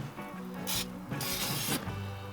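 Oil sprays onto chicken wings on a Weber kettle grill in two or three close, hissing bursts, each lasting about half a second, over a low steady background hum.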